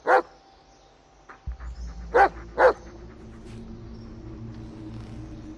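A dog in the video game Blair Witch gives one sharp bark, then two more close together a couple of seconds later, over a low steady hum.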